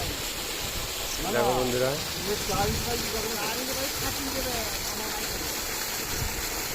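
Water gushing steadily from a new Kirloskar 2 hp motor pump, a continuous rushing hiss, while someone talks over it.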